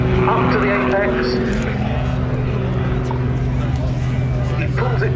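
A Muscle Pitts S-2S aerobatic propeller plane drones steadily at an air show while performing vertical slow rolls, its engine heard through continuous commentary over a loudspeaker.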